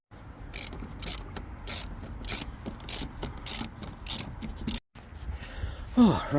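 A hand ratchet undoes a top mount nut on a Skoda Fabia vRS 1.9 TDI, giving about ten crisp, evenly spaced clicking bursts close up, followed by a brief pause and some clattering handling.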